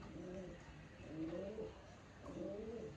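Pigeons coo softly in a quiet indoor loft, giving three rolling coo phrases in a slow repeating rhythm, close but faint.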